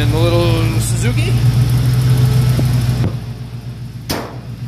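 A Suzuki Samurai engine idles with a steady low mechanical hum and a faint rising whine, and a person speaks over it. The engine fades down about three seconds in, followed by a brief clunk.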